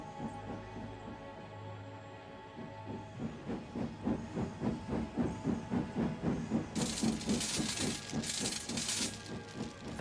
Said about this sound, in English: Thomas wheeshed and set off an old steam whistle